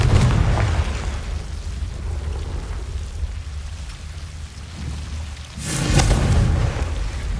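A Confringo fire spell bursts in the PS5 game Hogwarts Legacy, a booming blast over a steady rumbling, rain-like background, with a second loud burst near the end.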